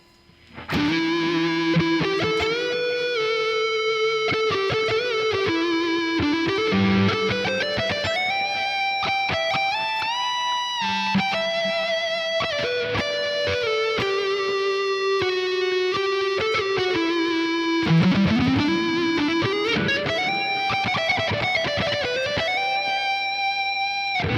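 A distorted electric guitar lead tone from the Archetype Nolly X plugin plays a sustained line with sliding, bending notes, thick with effects and reverb, ringing out loudly throughout.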